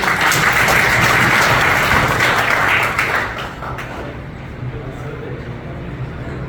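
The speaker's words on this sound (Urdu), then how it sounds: "زاور بھائی بیٹھے آپ، تالیاں اس کے لیے." Lecture audience applauding a participant, a dense, loud burst of many hands clapping that drops to a quieter level partway through.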